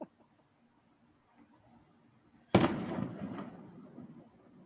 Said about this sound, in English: Are we getting fireworks already?